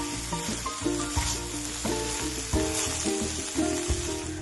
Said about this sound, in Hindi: गाजर को भूनते हुए लगभग 10 मिनट मुझे हो चुका है। अभी इसको थोड़ी देर और भूनेंगे।